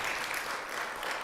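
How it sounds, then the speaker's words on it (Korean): Applause from a church congregation at a Sunday service in Calgary, steady dense clapping throughout, fairly close and even in loudness. "우리 같이 일어나실 때 박수 한번"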